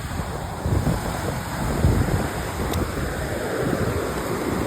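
Ocean surf washes onto a beach in a steady, loud roar, with strong wind buffeting the microphone and no talk over it.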